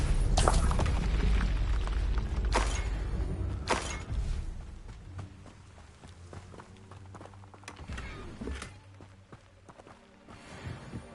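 Fiery explosion spells in the Hogwarts Legacy video game go off as several heavy booms, loud at first and then fading, among scattered impacts and game sounds with no talk.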